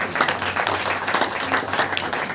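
A church congregation claps together during a Saturday prayer meeting, a dense, steady wash of many hands filling the whole stretch at an even level, with no voices standing out.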